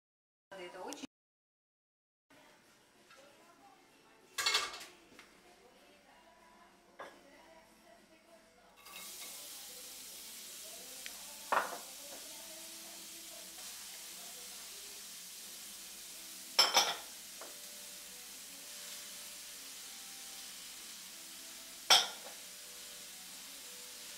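Soft sizzling of food in a hot pan, with occasional clinks and scrapes of a utensil against the pan.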